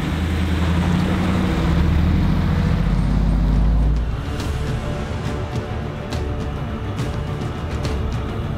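An off-road vehicle drives through a tight desert slot canyon in Anza Borrego, with a loud, steady engine drone and rumble that eases after a few seconds into a rougher idle with crunching and knocks.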